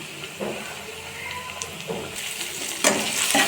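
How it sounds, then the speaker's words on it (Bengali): Ground paste of ginger, garlic and cumin frying in a pan with whole spices, a soft sizzle broken by brief stirring scrapes and louder spits near the end. "এখন আমি ভেজে নেব।"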